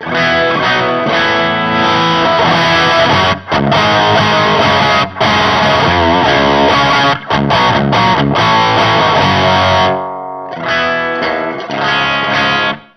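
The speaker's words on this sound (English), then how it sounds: "it allows you to use your guitar's volume knob to back off the volume and you'll get a nice clean" Bright, cutting electric guitar through an EarthQuaker Devices Bows treble booster pedal, boosted crunchy treble edge, loud chords with brief stops and a short gap before resuming.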